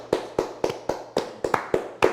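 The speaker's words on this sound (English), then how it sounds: "Let's give him a round of applause" Applause at a live comedy show for the Bobby Jones Orchestra comes as about eight slow, evenly spaced hand claps, sharp and fairly close. It sounds like one or a few people clapping rather than a full crowd, with no talking.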